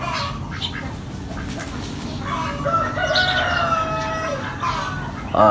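Ducks bathing early in the morning, with scattered quacks and bird calls over a constant outdoor background, some calls sharper and closer toward the end.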